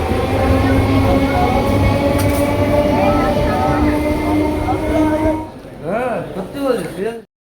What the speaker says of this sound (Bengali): ট্রেন প্রায় 1 ঘন্টা লেট, অবশেষে হাড়োয়া রোডে এলো।